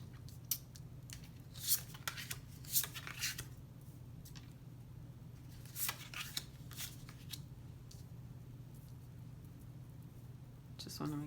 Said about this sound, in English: we're going to flip those cards for you